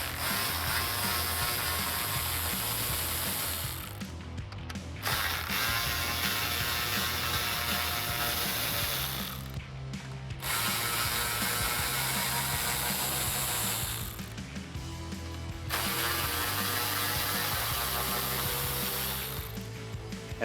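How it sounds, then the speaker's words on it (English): Ratchet with a 10mm socket spinning out grille bolts on a Ford F-150, a steady dense clicking run that stops briefly three times between bolts, close and fairly loud with no talk. "grab your 10mm socket and remove the 4 bolts located on the top"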